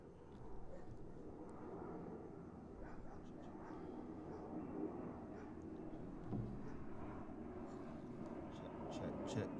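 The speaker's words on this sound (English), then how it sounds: "You can hear the plane overhead because we're outside." A low, steady aircraft drone rumbles overhead outdoors, faint and continuous across the whole stretch.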